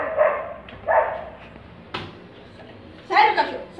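A dog barks a few times at close range, in separate bursts with short gaps, while a person talks over it and a sharp knock cuts in partway through.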